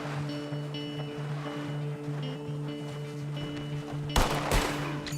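A couple of sharp gunshots ring out near the end in Red Dead Redemption 2, loud and close, after several seconds of steady humming ambience.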